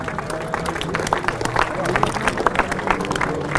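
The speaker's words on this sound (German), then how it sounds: "Aber auch das Paar am zweiten Rang hinter einen kräftigen Applaus von dir." A crowd applauds at a cattle show in Grabs, with scattered, uneven claps over crowd murmur and talking close by.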